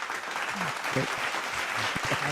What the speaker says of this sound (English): There will be clapping.